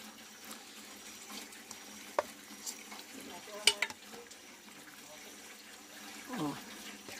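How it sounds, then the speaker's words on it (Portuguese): Pieces of free-range chicken go into a pressure cooker with garlic and onion, giving a faint, steady sizzle with a few scraping and clattering sounds as the food is stirred, while a person talks over it. "E aqui, pessoal, vamos colocar aqui na nossa panela de pressão."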